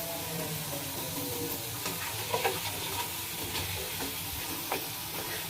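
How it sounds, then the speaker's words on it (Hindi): Garlic tempering sizzles in hot oil for kadhi, a steady frying hiss with small crackles and stirring scrapes, close and continuous with no talking. "मैंने कड़ी को लहसुन का तड़का लगाया है"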